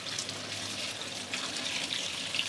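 Gatakol leafy greens being washed in water to clear off dirt, a soft steady splashing and trickle heard alone and close.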